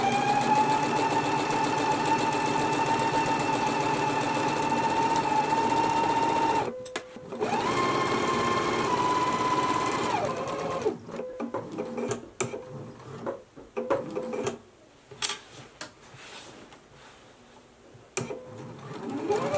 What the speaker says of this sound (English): So let's go ahead and do all of those stitches now.